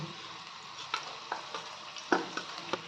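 Onions frying in a pan and being stirred, a soft steady sizzle with several distinct scraping and tapping strokes of the spoon at irregular intervals.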